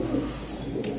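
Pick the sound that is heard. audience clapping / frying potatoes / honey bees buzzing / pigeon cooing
pigeon cooing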